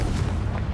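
Confringo spell in Hogwarts Legacy: a short, loud fiery burst with a deep rumbling body that fills the whole moment without trailing off.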